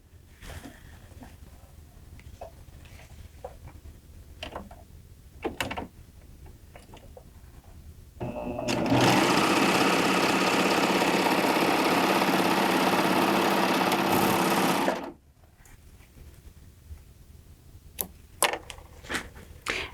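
A Baby Lock Triumph serger sews a chain stitch, its motor whirring steadily and loudly for about six seconds. Quiet handling clicks come before and after.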